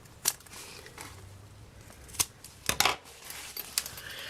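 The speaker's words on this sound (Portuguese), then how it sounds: "Vou fazer um pique aqui e aqui, pra marcar o meio do canal do zíper." Scissors cutting small notches into fabric to mark the centre of a zipper channel while sewing a small cosmetic case, a few sharp, quiet snips scattered between soft rustling.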